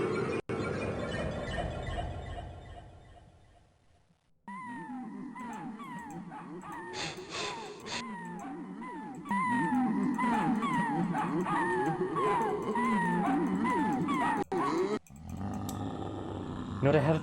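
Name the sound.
dog barking and howling in a video game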